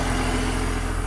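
A boosted Honda engine idles steadily with a constant low hum and a smooth, even drone throughout a brief stretch, with no talking.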